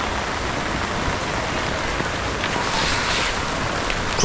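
Steady rain and gusting wind on a seaside shore, a dense continuous hiss with scattered drop patter, loud and close throughout with no voices.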